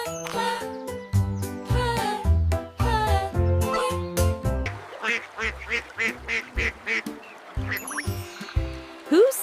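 A duck quacks repeatedly in a quick, uneven series of loud nasal calls, with tinkling music underneath and a burst of honking calls near the end.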